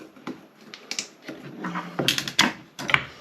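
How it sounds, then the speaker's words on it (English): Scissors snipping through plastic cable ties while a Steambow Stinger 2 crossbow is unboxed; a handful of sharp, close clicks and snips with faint handling rustle between them. "They can be cut off. Let's grab the scissors again."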